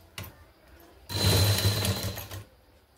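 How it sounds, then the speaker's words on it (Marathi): Sewing machine stitching a dart on a blouse during fitting, a short burst of fast steady motor whirr and needle clatter lasting about a second and a half, close and fairly loud, after a few faint handling taps. "आता मी रेष न ओढता टीप मारून दाखवते."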